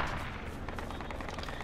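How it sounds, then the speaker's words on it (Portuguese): MG3 machine gun fire in the video game Project Reality, heard as a faint, distant rattle of rapid shots spread evenly through a dense, hissy battlefield backdrop. "Tem uma MG3 no norte, cara, ela tá dando um tiro pra cá."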